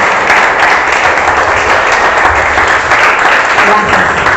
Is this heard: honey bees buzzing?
no